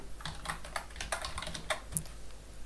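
Code being typed on a computer keyboard during a C programming lesson, a close run of crisp irregular key clicks with a few sharper taps and no talking.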